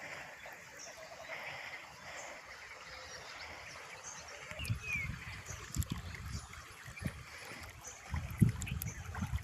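Irrigation water gurgles and rushes steadily through a garlic field, growing louder and rougher partway through, with faint birds chirping in the background.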